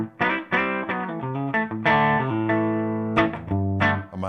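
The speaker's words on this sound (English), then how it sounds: "here's the clean sound I'm working with" Clean electric guitar through a Koch amplifier, close and bright, playing a short melodic phrase of plucked notes and ringing chords with smooth sustain.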